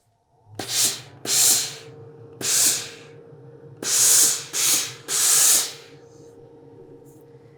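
Steam iron pressing along a serged seam on a woven shirt, laid wrong side up: six sharp hissing bursts of steam, each about half a second long, set apart by short pauses over a low steady hum, close and fairly loud, with no talk.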